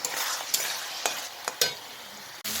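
Fried crab and sweet pumpkin curry stirred in a hot pan: a continuous close sizzle broken by several sharp scrapes and knocks of the spoon, with no voices.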